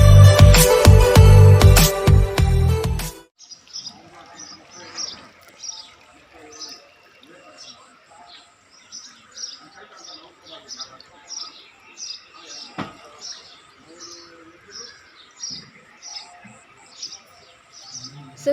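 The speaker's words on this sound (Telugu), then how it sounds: "ఉదయాన్నే పక్షులు కిలకిలా అంటున్నాయి" After a loud, dense burst of other sound, birds chirp in the morning, their short, bright calls repeating in a steady, moderately faint pattern over a quiet background.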